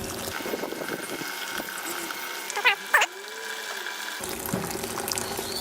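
Hot wort from an oatmeal stout brew day pours steadily into a kettle through a mesh hop spider, a continuous watery rush with a few brief splashy bursts midway, fairly close and unaccompanied by speech.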